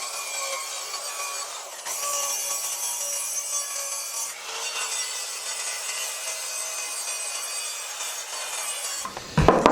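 A hand saw cuts a piece of wood for an upholstered storage box, giving a continuous rasping, scraping rhythm of strokes up close. A brief pause breaks it midway, and a few knocks come at the end.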